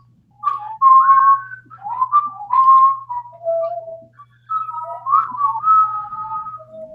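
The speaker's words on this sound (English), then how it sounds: "if it's that whistle, we know it's that time, don't we?" Someone whistles a short, lively tune alone, in several bright phrases with brief pauses, close and clear over a faint low hum.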